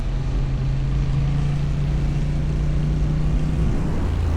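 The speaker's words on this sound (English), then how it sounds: "And the sound of the AMT engine is always a joy." Honda NT1100 DCT-ES twin-cylinder motorcycle with offset crank, engine droning steadily while riding, a constant low hum with wind noise and no voices.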